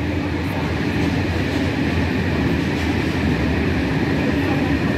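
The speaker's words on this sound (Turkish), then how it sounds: "trenimiz de geçiyor. Bakın ne güzel." A heavy coal train rumbles past close by, a steady dense roar of wheels and cars with faint rhythmic clacking throughout.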